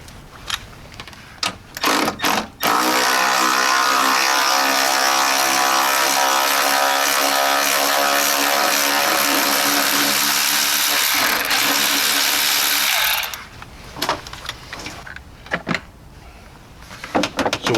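A power tool runs steadily for about ten seconds, removing the 10 mm fan shroud bolts on a 2003 GMC Yukon Denali. It gives a close, loud, high-pitched whirring buzz, framed by sharp clicks and clatter before and after.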